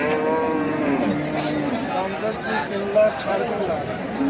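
A cow lows in drawn-out moos at a busy cattle market where animals are sold for Qurbani, close and fairly loud, with crowd chatter and people talking around it.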